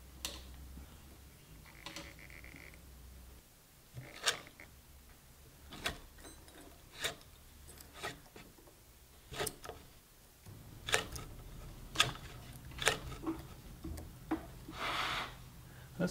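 Thread tap being turned by hand with a T-handled Allen wrench, giving a series of sharp, isolated clicks and ticks at irregular intervals with quiet pauses between them, close by and fairly faint.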